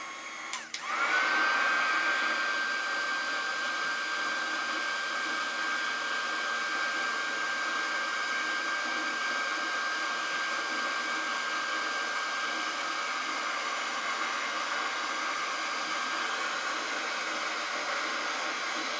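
A Ranger-type C6 heat embossing gun runs steadily and loudly for the whole stretch, a constant broadband blowing hiss with a faint high whine, starting with a brief click and no talk over it.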